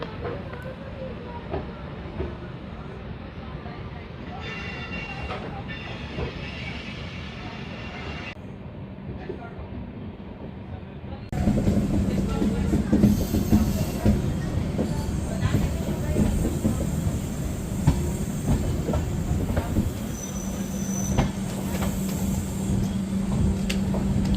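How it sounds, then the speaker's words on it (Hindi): An express train departs a yard, rumbling along the rails with rhythmic clattering and a steady low roar that grows louder partway through, with occasional faint voices in the background. "यहाँ से हमारी ट्रेन का डिपार्चर हो चुका है"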